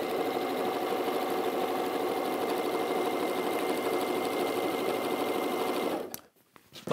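A sewing machine stitches fabric with the feed dogs drawing it through, a rapid, even mechanical chatter that runs steadily for about six seconds before stopping abruptly, followed by a few faint handling clicks.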